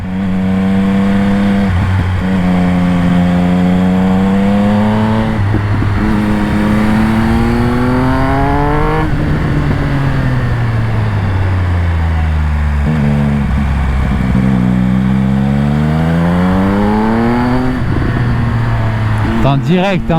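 A Triumph Speed Triple 1200 RS motorcycle engine, a 180 hp triple, revs hard through the gears in a loud, close onboard run. Rising and falling harmonic sweeps mark repeated pulls and shifts, with a rider speaking over the engine.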